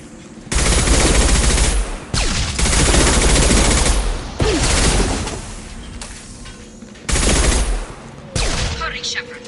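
Bursts of automatic gunfire in Mass Effect 2 come in four long, loud, dense volleys separated by short pauses, each ending with a trailing crack and ring.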